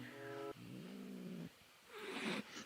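A cat hisses at close range, a voiced, snake-like rasp held for about a second and a half, followed by a breathier, noisier hiss burst.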